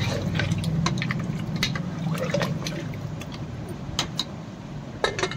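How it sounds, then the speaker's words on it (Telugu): Water poured into mutton curry in a pressure cooker, Telangana style: a continuous splashing, trickling pour with a few light metallic clinks, fading gradually toward the end. "ఇప్పుడు మనం తగినన్ని వాటర్ అయితే పోస్తాం"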